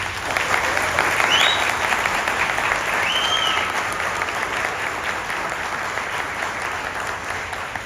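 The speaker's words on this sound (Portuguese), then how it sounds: "Luíde Gonçalves e Henrique Braga, a quem eu peço uma salva de palmas." Applause fills a city council chamber in Belo Horizonte, a steady wash of many hands clapping at even strength throughout, with a couple of faint whistles or high tones near the start.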